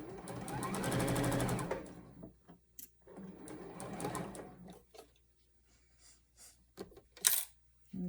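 A sewing machine sews a quilt block together in two rapid bursts, the first longer and louder, followed by quiet clicks and fabric handling.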